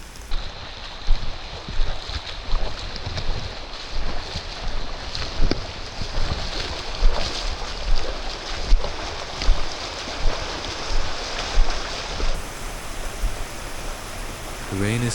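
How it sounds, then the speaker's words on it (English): Heavy rain pours outside during a storm in Vietnam, a dense constant hiss with scattered louder splashes and drips, close and continuous throughout. "The rain is still pouring outside."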